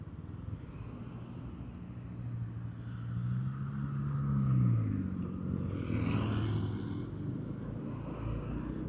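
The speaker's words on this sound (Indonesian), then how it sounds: "masih ada beberapa kendaraan lewat," Motor vehicles pass along Jalan Raya Ciangsana near the Kota Wisata Cibubur underpass, with a low engine rumble swelling as one goes by at mid-distance, then a brief brighter whoosh of another passing, under steady traffic noise.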